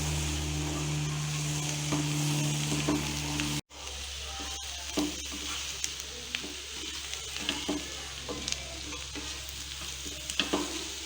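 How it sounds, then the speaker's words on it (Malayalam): Breadfruit being sautéed with masala and salt in a pan: a continuous sizzle with scattered clicks and scrapes of stirring, preceded by a low steady hum that cuts off abruptly. "ഇനി ഇതെല്ലാം നന്നായിട്ട് ഒന്നുകൂടെ വഴറ്റി കൊടുക്കാം."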